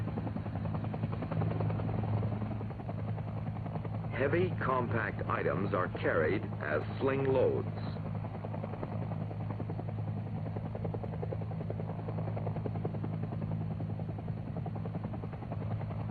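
A UH-1 military helicopter drones steadily throughout, with its low rotor hum constant, while someone speaks briefly over it partway through.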